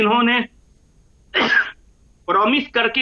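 A single throaty cough breaks a pause between stretches of someone speaking close by.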